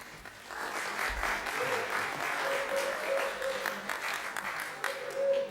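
Applause at a planning board meeting, a modest room of people clapping steadily for several seconds, moderately loud, with faint voices mixed in.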